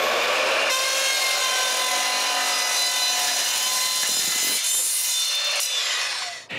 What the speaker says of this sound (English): I cut one end to the roof's angle. We measure its length and it's back to the saw.